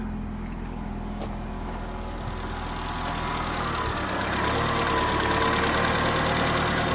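A Citroen C3 engine idles with a steady low rumble that grows slightly louder over the seconds, heard close and continuous with no talking; the car has a battery warning light on and an alternator not charging.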